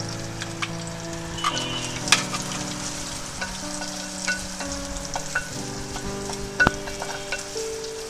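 Slit green chilies and minced onions frying in a pan for a drumstick flower biryani, a steady crackling sizzle with scattered pops and stirring clinks, close and without talk.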